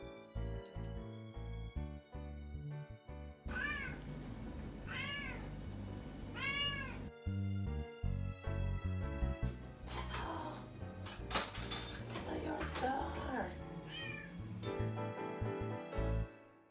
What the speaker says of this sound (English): we've got Ethel the cat at my feet joining us